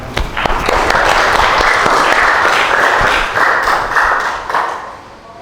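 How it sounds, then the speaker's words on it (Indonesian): Loud, close applause from a group, dense and continuous, tapering off toward the end. "Oke, tepuk tangan."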